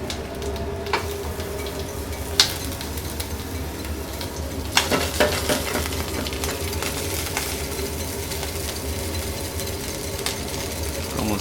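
A French omelette mixture of beaten eggs and cream sizzles steadily in a pan over gentle heat, a continuous close hiss with a few light clinks of a utensil.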